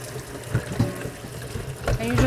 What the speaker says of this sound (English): And you're just rinsing them with regular cold tap water.